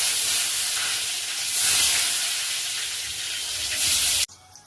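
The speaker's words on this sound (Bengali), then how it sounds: "বেগুনটা ভেজে দেবো।" Eggplant frying in hot oil, a loud steady broadband sizzle and hiss that holds for about four seconds, then cuts off abruptly to a faint quiet tail.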